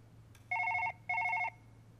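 A telephone ringing in the video game Surgery Simulator, two clear electronic trilling rings with a brief gap between them, loud and close over a low background hum.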